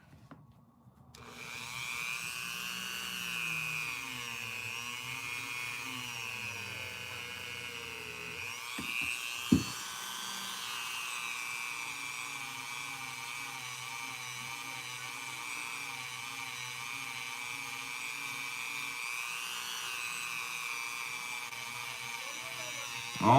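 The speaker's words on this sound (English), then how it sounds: "All I'm doing is just working on this back area, the butt end, these back bolsters. Not running my Dremel very high." A Dremel rotary tool at low speed polishes the back bolsters of a Case trapper knife, giving a continuous close whine that wavers in pitch, with a brief knock near the middle and a clunk at the end.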